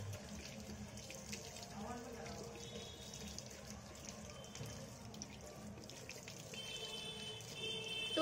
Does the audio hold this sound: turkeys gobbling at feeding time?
no